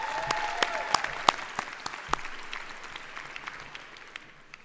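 A commencement audience claps for graduates at a December ceremony, a dense, sustained round of applause with sharp individual claps standing out and gradually easing off toward the end.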